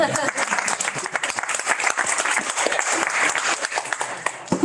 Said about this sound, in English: now we can clap for her